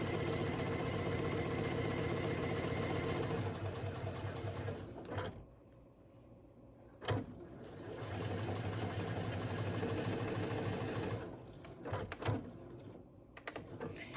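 Sewing machine running a patchwork quilt seam for an hourglass block, a steady rapid mechanical stitching drone that stops briefly around the middle, restarts, then ends in short bursts.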